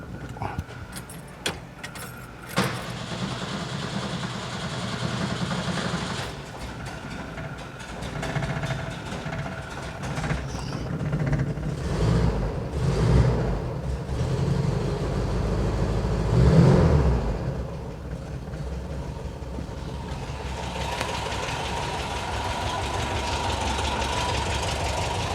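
A 1972 VW Bus air-cooled engine with a newly fitted 38mm carburetor cold-starts after a few cranking bursts, then settles into a steady, somewhat ticky idle that swells briefly before evening out, close up with no talking.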